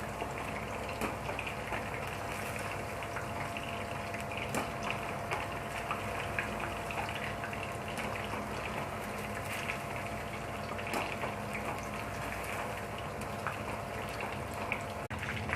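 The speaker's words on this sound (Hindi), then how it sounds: "हमें इसी तरह सब ट्यूब्स को फ्राई कर लेना है" Food tubes for a chicken crispy dish fry in oil in a pan, giving a faint, steady bubbling hiss dotted with small pops.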